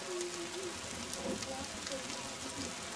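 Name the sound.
heavy rain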